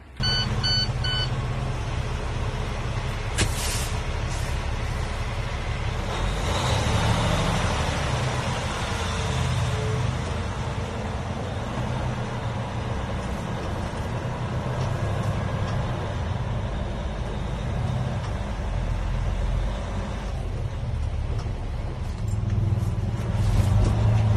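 A fire engine drives along with a steady, loud engine rumble and road noise from inside the cab, with a few faint beeps near the start and changes in the engine's drone.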